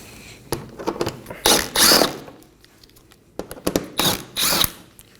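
A power tool spins out 10mm bolts under a Toyota Corolla during front impact absorber replacement, heard as two pairs of loud, close whirring bursts with quiet gaps between them.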